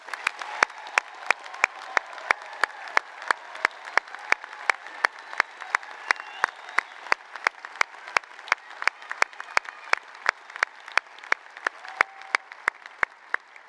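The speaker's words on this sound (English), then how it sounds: "because you can't get too much applause on a day like today, one final congratulations to all of our graduates." An audience in an auditorium applauds at a 2022 arts school graduation ceremony. Sustained crowd clapping fills the space, with sharp, evenly spaced claps punching through at a regular beat for over ten seconds.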